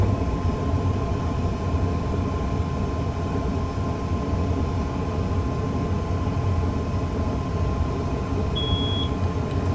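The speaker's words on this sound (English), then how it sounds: "I'm then going to shut off the power to allow the train to coast" An APT tilting passenger train in Train Simulator 2018 coasts with power off on the Preston to Carlisle line, a steady loud rumbling drone of wheels and cabin noise with a short beep near the end.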